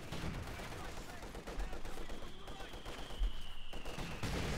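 Battlefield gunfire and explosions in the real-time strategy game Company of Heroes 2 during a 1v1 match, dense continuous shooting with a couple of duller thumps, moderately loud, with a commentator talking over it.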